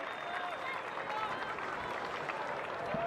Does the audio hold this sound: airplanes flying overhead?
no